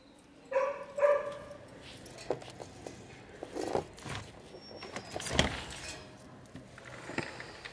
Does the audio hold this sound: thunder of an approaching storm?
no